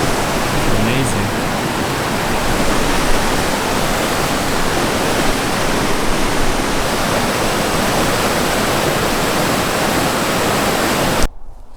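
Steady, loud roar of water rushing through Clarendon Gorge along the Appalachian Trail in Vermont, a dense continuous torrent that fills the whole stretch and cuts off abruptly at the end.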